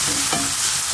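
Shrimp and dried chillies fry in soybean oil while being stirred, a steady hiss of sizzling with a couple of soft scraping strokes of the utensil, close and alone.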